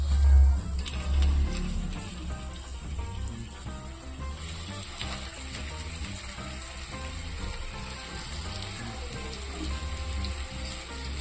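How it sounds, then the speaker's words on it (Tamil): Chicken pieces fry in hot oil over medium heat, giving a steady crackling sizzle throughout, with a faint rhythmic mechanical or musical pattern underneath and no speech. "எண்ணெயில் வந்து நம்ம ஃப்ரை பண்ணிக்கலாம்"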